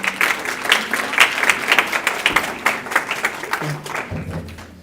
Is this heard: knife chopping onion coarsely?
no